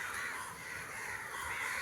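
A crow cawing among leaves, a faint, somewhat distant call over steady background noise, with no voices.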